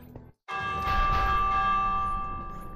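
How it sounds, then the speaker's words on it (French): Alarm bell in the video game Minecraft Dungeons rings out after a brief pause, a loud sustained metallic clang with a long, slowly fading ringing tail. "Donc, faire sonner la cloche de l'alarme."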